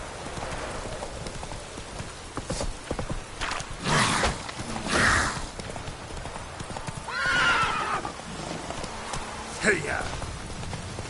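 Roach the horse in The Witcher 3 whinnies and neighs several times over steady clip-clop hoofbeats, with a voice speaking briefly between the calls.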